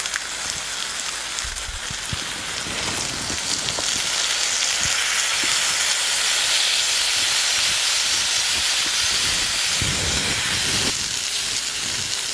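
Tamarind gravy for black chickpea curry simmers steadily in a pot, a continuous bright hiss and bubbling sizzle that holds at an even, fairly loud level throughout with no talking.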